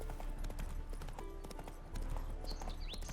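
Hoofbeats from Geralt's horse Roach clip-clop steadily while being ridden in Witcher 3, a quiet, even rhythm of hooves beneath faint ambient game sound.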